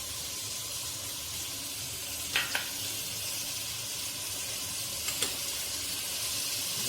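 Chopped onion and tomato fry in a pan with a steady, close sizzle, and a couple of faint clinks or stirs break the even hiss.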